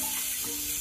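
Onion and bell pepper sizzling in a hot pan, a brief, close, continuous frying hiss with no voices.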